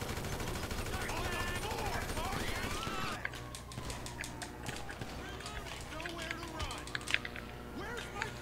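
Gunfire in the GTA video game, a dense stretch of shots and action noise followed by sharper scattered pops, with players' voices talking over it.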